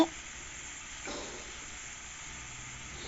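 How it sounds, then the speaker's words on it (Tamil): Tomatoes sautéing in a pan for a prawn and bottle gourd semi gravy give a soft, steady sizzle and hiss throughout, fairly quiet and with no talk over it. "சேர்த்து நல்லா மசிகிற அளவுக்கு இதை வந்து நல்லா வதக்கி விட்டுருங்க"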